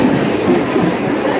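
Crowded commuter train in Mumbai rolling along, a steady loud rumble of wheels and carriage noise filling the whole moment with no speech.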